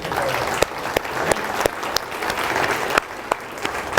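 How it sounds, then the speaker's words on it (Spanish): Loud applause for a group of young people at a congregation's service, a steady wash of many hands with a few sharp louder claps standing out nearby, continuing for several seconds. "Un aplauso bien fuerte para ellos."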